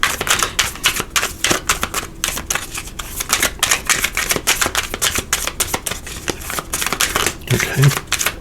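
Cards being pulled one by one from a tarot deck during a reading, a dense run of quick papery flicks and snaps that goes on steadily throughout, close and fairly loud with no voice over it.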